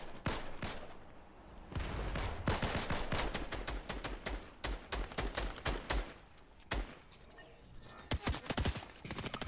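Two teams trade gunfire in a video game battle, with rapid bursts and single shots cracking in irregular volleys that pause briefly and then resume, heard at a moderate distance.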